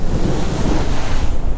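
Big sea waves and strong wind out on open water, a loud continuous rush with surging swells and gusty buffeting on the microphone, no voices present.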